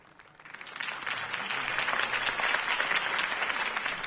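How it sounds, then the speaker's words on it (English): Crowd applause following a campaign speech in a video game, swelling from quiet in the first half second into broad, sustained clapping that holds steady to the end without speech. "If only Mr. Wayne, my campaign's largest backer, could have heard that applause"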